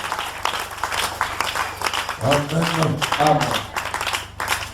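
A church congregation applauds and claps for Adonai at a French-language service, a sustained wash of clapping under a preacher's voice and scattered crowd calls.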